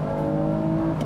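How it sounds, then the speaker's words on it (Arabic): A 2018 Toyota Camry V6 engine gives a brief, steady, loud mechanical hum with strong tonal harmonics, heard alone and close for about a second. "فعلا هذا محرك الـ V6 روعة بالكامري."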